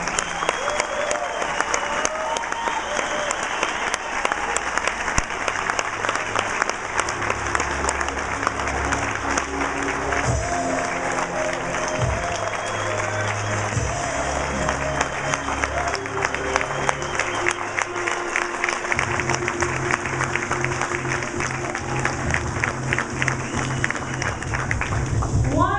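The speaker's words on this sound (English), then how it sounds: "Guys, please give them a big round of applause." A large audience gives an extended round of applause, dense clapping that stays loud and steady for nearly half a minute, with occasional cheers and a low musical hum underneath.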